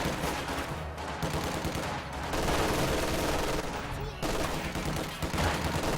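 Machine gun fire crackles through a strategy war game battle, dense sustained bursts of gunfire overlapping in a loud, continuous fusillade with a brief lull before it surges again.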